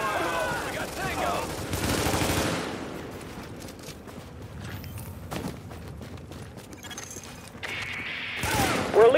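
Gunfire in The Division on Xbox, bursts of shots and clattering weapon sounds through a busy, dense game mix, loudest early and again at the very end.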